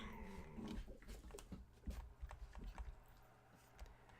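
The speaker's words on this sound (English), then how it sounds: "I'm sorry about the dogs in the background today." Dogs bark and growl faintly in the background, several scattered yelps and rough bursts at irregular intervals over a low, quiet hum.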